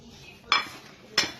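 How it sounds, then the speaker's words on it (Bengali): Spiced okra is mixed with rice flour and cornflour in a bowl, heard as two short metallic clinks against the bowl over a quiet background. "মশলাগুলোকে মেখে নিব এখন চালের গুঁড়া কর্নফ্লাওয়ারটা দিয়ে দিব"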